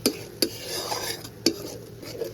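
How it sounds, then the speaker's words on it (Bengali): Spice paste being stir-fried with a little water for Bengali niramish doi potol, with a few sharp spoon scrapes against the pan over a soft, steady sizzle. "অল্প একটু জল দিয়ে দিচ্ছি জলটা দিয়ে কিছুক্ষণ কষাবো"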